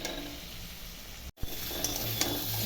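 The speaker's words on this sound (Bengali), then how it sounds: "তারপর মশলাটা দিয়ে ভালো করে কষাবো তো কষুক একটু" Spice paste with Kashmiri chilli powder frying with potatoes and chickpeas in a pan, a continuous close sizzle with stirring scrapes, one brief break midway.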